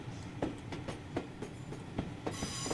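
A four-coach Class 411 electric train runs on the Southeastern network in Train Sim Classic, its wheels clicking steadily over rail joints in a soft, even rhythm beneath a constant low rumble.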